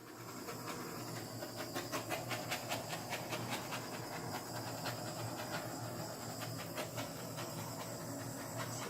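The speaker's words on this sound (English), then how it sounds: "Let's give it a torch first." Torch flame hissing steadily over a dirty pour of silicone-laced paint, a continuous close, airy roar with slight flickers and no voices.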